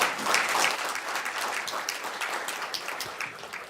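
Steady audience applause at the 2023 Census main report launch, a full, even round of many hands clapping close by, holding strong throughout the short stretch.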